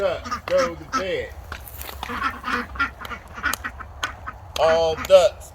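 Ducks quack repeatedly and loudly nearby as they are herded to bed, with honking calls scattered across the clip and a louder burst near the end.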